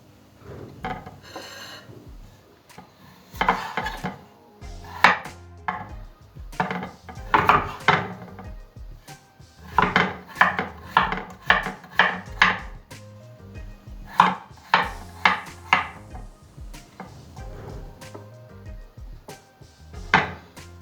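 A knife dices potatoes into cubes on a cutting board, a quick uneven series of close, crisp knocks with short pauses between runs, no talking.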